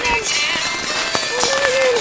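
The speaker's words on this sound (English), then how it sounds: "Oh, it's hailing. It's hail." Hail rattles steadily against a camping tent in the backcountry, a dense, continuous patter close around the listener, with scattered louder pings and a faint tonal whine rising partway through.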